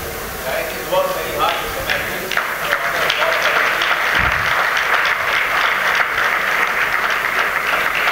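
An audience at a souvenir launch event applauds steadily for several seconds, a continuous bright patter of clapping with voices talking over it at first.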